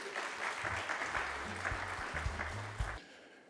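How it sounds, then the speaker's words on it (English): Conference audience applauding a speaker's introduction, a steady wash of clapping at moderate level that ends abruptly near the close, with a low voice murmuring beneath. "Let's give him a round of applause, please."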